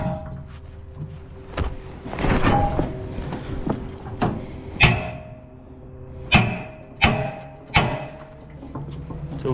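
A Halligan bar's forks wrap and force an inward-swinging door during forcible entry. Irregular sharp knocks and thuds of metal on the door and frame are spread through the clip over a scraping, rattling background.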